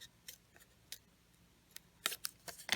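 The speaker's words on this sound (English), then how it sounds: "take your paper snips and just carefully poke in and cut around his hand" Paper snips cutting around a paper figure's hand, heard as faint, close, irregular snipping clicks that grow quicker and louder toward the end.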